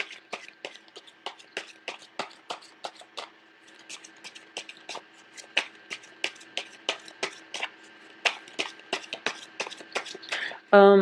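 Tarot cards being shuffled and handled, giving a run of soft, rapid riffling flicks in steady bursts, close and clear, ending in a louder rustle of cards.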